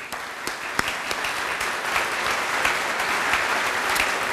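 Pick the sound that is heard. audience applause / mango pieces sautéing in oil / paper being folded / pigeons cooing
audience applause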